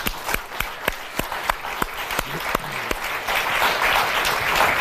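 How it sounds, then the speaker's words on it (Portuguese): A studio audience on a Portuguese morning TV show applauds the guests with loud, close clapping, sharp individual claps at first that thicken into a full, sustained ovation. "Um fortíssimo aplauso para os nossos convidados."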